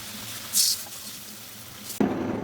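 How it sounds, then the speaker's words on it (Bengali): Hot water poured into a pan of fish curry whose spiced masala of ginger paste, turmeric and chili powder has been fried down in oil, giving a short hiss near the start and then a steady sizzling rush at the end. "দেবো গরম জল"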